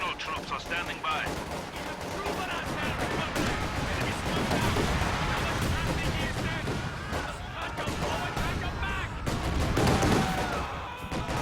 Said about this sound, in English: Mass satchel charges on the base. No, incendiary artillery.